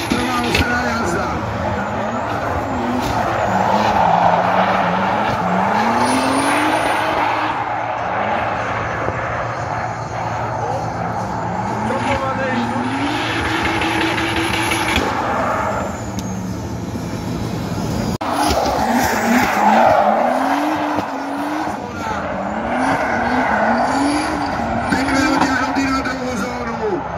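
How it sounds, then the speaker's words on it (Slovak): A race car climbs a hillclimb course at the Pezinská Baba event, its engine note rising and falling through repeated gear changes as it passes through sections, with commentary running over it throughout. "Jakub Dvořák a jeho prvá ostrá jazda."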